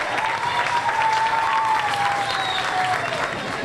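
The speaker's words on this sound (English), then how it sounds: "Give them a round of applause so they can come up." Steady applause from a crowd, dense clapping at an even loudness throughout, with a faint tone running underneath.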